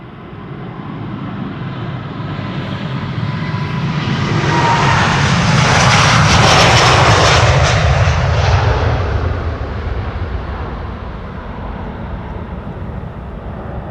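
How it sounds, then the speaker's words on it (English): A Delta Airlines Airbus A330neo jet takes off at Amsterdam Schiphol Airport; the engine roar swells over several seconds to a loud, broad peak as it passes, then gradually fades into the distance. "Delta Airlines Flight 146 next. A330 Neo. Brand new, first flight was in April this year"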